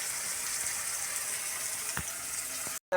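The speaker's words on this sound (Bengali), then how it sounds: "ভেজে নিয়ে আলু আর গাজর দিয়ে দিয়েছি। এবার এটা ভাজা হতে থাকুক ভালো করে।" Potatoes and carrots fry with onion and green chili in a pan, giving a soft, continuous sizzle at low level with a faint clink near the end, stopping abruptly.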